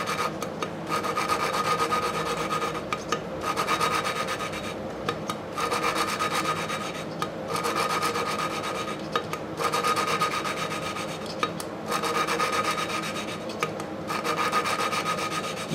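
Valve lapping on a 1952 Briggs engine: grit grinds between the valve and its seat in a steady rasping scrape, pulsing as the tool twists back and forth, with brief gaps every couple of seconds, close and continuous.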